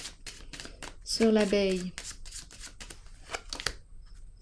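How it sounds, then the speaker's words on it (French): Tarot cards are laid down and handled during a reading, with quick papery snaps, slides and taps scattered through steady talking. "je vais déposer une carte ici"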